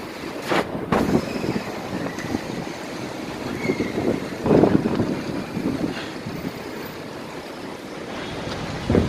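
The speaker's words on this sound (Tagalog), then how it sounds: "Sobrang lakas ng hangin. May kasamang buhangin." Strong wind carrying sand buffets the microphone in heavy, uneven gusts, roaring and rumbling over a constant rushing background.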